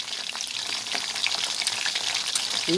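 Chicken drumsticks frying in hot oil, a steady dense sizzle and crackle that stays fairly loud and constant throughout, with no talking.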